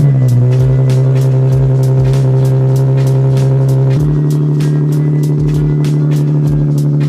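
Nissan 370Z engine on a cold start: a loud, steady high idle with a strong low hum, a brief rev change near the middle, then a slightly rougher idle with recurring low pulses.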